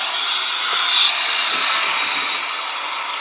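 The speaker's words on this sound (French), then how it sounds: "Un avion qui atterrit au Congo RDC." A landing airplane in the Democratic Republic of Congo gives a loud, steady jet roar with a high whine, holding constant for a few seconds with no voices.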